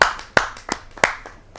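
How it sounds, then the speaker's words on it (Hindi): A handful of separate hand claps, loud and close, with gaps between them, from the audience at a Hindi poetry gathering welcoming a poet; no voices. "आप सब जोरदार तालियों से उनका स्वागत करें"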